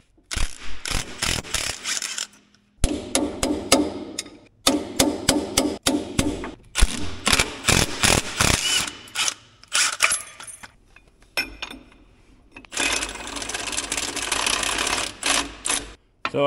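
A removal tool is hammered to drive out a U-joint on the driveshaft of an Autocar construction truck. The blows come as dense, rapid metallic strikes in repeated bursts, loud and close, with short pauses between runs.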